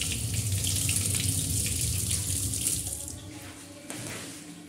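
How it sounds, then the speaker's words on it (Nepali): Water gushes steadily and forcefully from a newly fitted bathroom tap, a close, loud continuous rush that eases slightly near the end. "पानीको फोर्स हेर्नु गाइस।"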